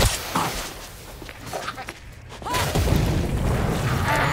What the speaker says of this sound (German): Ich hab eine Granate geschmissen.